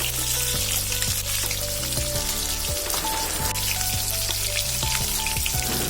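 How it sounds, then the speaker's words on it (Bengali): Salted, turmeric-rubbed tilapia pieces fry in hot oil in a village-style Bengali kitchen, giving a steady, dense sizzle and crackle with scattered pops, close and continuous, with no talking. "মাছগুলো এবার ভেজে নেব একে একে।"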